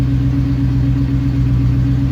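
A 1972 Range Rover engine idles steadily close by, a loud, even low rumble with a regular pulsing beat that holds unchanged throughout, no voices present.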